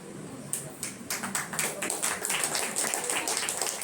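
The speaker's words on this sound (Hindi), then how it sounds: "इसके लिए भी ताली बजा रहे।" Audience at a Brahma Kumaris spiritual talk in Gajipur clapping together, a dense run of hand claps starting after a brief pause and continuing steadily, fairly close.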